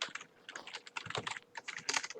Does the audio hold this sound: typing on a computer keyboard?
yes